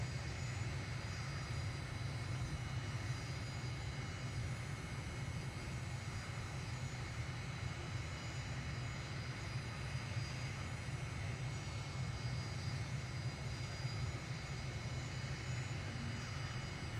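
Airliner engines in a flight simulator game after landing at an airport runway, a steady low droning roar with a faint high whine, continuous and even throughout, no voices.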